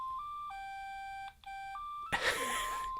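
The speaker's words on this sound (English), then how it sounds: "Here's the alarm going off." A Psion Series 3 electronic organiser alarm beeps in a repeating pattern of high and low tones, then a burst of rustling noise cuts in as it continues faintly.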